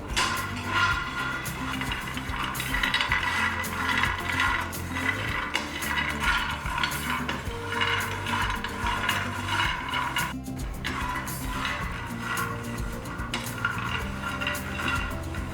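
Ingredients for an almond drink mix dry-roast in a pan, giving off soft, frequent popping and crackling along with scraping and clinking as they are stirred, fairly faint and steady throughout.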